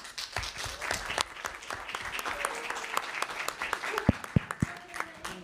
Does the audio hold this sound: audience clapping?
yes